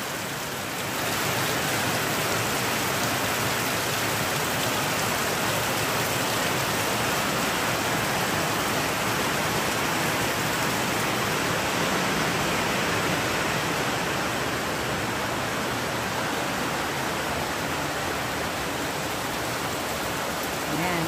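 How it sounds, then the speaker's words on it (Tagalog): Heavy rain pours down in a dense, loud, unbroken roar that fills the whole stretch and drowns out other sounds. "Ang lakas ng ulan."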